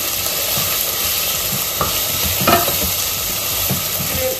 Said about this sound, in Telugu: స్టవ్ ఫుల్ మీద పెట్టి నేను ఫ్రై చేసుకుంటున్నాను.